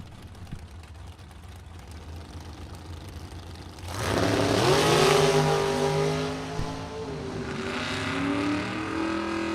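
Bracket drag race cars in Super Pro class launching from the starting line, engines roaring up sharply and climbing through gears as they pull away, loud and then fading while a second surge follows.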